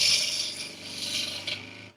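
Bowl gouge cutting a spinning wood bowl on a lathe, riding the bevel: a continuous bright scraping hiss with slight rhythmic pulsing, close and fairly loud, tapering off at the end.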